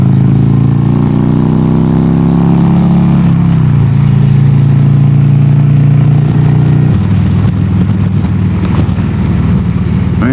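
Harley Davidson Road King motorcycle riding along a highway under road construction, its engine a loud, close, continuous rumble that rises in pitch, drops as gears change, then steadies.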